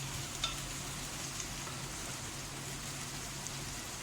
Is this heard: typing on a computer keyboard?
no